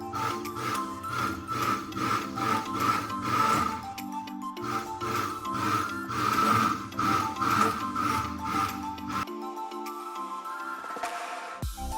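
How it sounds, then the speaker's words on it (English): An electric kitchen mixer churns homemade ice cream ingredients with added sugar, a steady close whirring motor with a regular pulsing rhythm that stops near the end, with no voices. "the other half sugar into the mixer. Again, mix all the ingredients."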